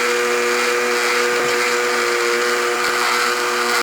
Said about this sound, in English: so we're just gonna blend it with our seasoning